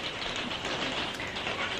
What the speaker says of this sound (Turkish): Çok güzel bir böyle yaz yağmuru var bugün.